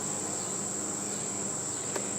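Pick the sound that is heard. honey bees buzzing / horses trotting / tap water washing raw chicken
honey bees buzzing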